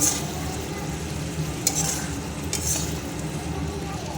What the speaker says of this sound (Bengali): সয়াবিনগুলো এবার বেশ ভালো করে কষিয়ে নেব দেখো